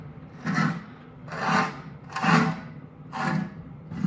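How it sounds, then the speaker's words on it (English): Dry, ungreased gears grind in a Kuhn 4101 being rebuilt, heard as four rasping, rubbing pulses roughly a second apart, each swelling and fading as the mechanism is turned by hand, close and fairly loud. "You can hear the gears because there's no grease in it at the moment"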